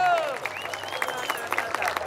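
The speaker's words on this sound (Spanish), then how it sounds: "¡Fuerte los aplausos!" Crowd applause and cheering at a live outdoor concert at a patron saint festival in Paraguay, a scattered clapping burst under a loud amplified voice and whistles.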